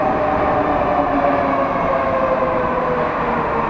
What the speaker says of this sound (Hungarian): Ott egy érkező metró.